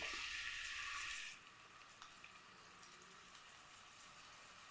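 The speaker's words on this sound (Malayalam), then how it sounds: "പാൻ നല്ലപോലെ ചൂടായി ഇതിലേക്ക് നമുക്ക് എണ്ണ ഒഴിച്ചു കൊടുക്കാം ഇഞ്ചി വെളുത്തുള്ളി" Ginger and garlic frying in hot oil in a heated pan, a steady hissing sizzle that is louder at first and then settles into a quieter, even crackle.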